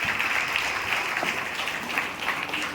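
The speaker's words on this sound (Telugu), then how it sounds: "ఒకసారి గ్రేట్ క్లాప్స్ లీడర్స్ ప్రతి ఒక్కరికి." An audience of leaders claps together at a gathering, a dense sustained round of applause from many hands that keeps an even level throughout.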